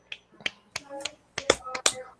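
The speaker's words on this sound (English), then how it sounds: "Let's give them 5 big claps." A small group gives five rhythmic claps for a presenting team, quick bright hits in a steady pattern with light voices underneath.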